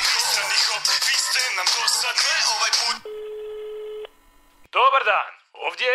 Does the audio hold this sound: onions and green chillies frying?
no